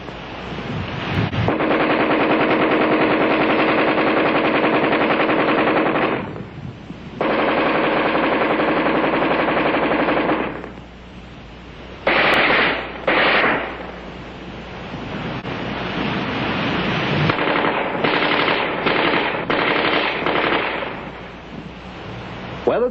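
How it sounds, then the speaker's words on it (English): Armalite AR-10 rifle fired offhand at a man-sized target at combat range, heard as long, loud sustained bursts of rapid fire broken by brief pauses, with a few shorter bursts near the end. "offhand firing against a man-sized target at combat range, the AR-10 is in a class by itself"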